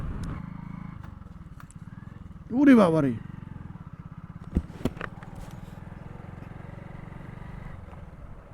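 A Hero Glamour motorcycle engine runs steadily up close with an even, low throb, broken by a brief loud exclamation from a voice and a few sharp clicks.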